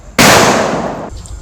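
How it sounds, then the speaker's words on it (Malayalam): A single loud gunshot rings out, fired to scare off a wild elephant that wandered into a residential area near a hospital hill at night. A sharp onset is followed by a long, fading boom. "വെടിവെക്കാണ്."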